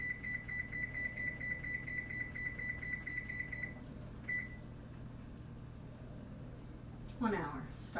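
Kitchen oven timer beeping while it is being set for baking pumpkin bread, a rapid run of high electronic beeps for several seconds followed by one short beep, faint and near, over low room hum and a brief voice.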